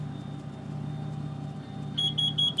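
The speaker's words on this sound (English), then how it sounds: "There's the alarm telling us to evacuate the area" A gas detector alarm sounds in an industrial exhaust area, a run of sharp, evenly spaced electronic beeps that cuts in near the end over a steady low machinery hum.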